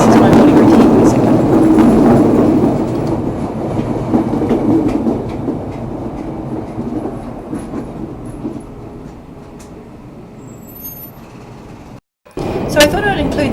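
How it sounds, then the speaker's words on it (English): A Chicago elevated L train pulls into the station with a loud, close rumble and clatter of rail cars and a rush of air, gradually easing off before an abrupt break. "So this is the train coming in, and I almost get knocked over by the force of the air"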